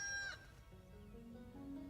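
A cartoon rooster crows in a My Little Pony episode, a brief, faint cock-a-doodle-doo over a soft musical background that lasts under two seconds.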